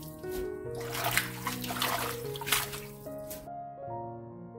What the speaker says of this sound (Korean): 30분 담가 두었던 숙 씻어줍니다.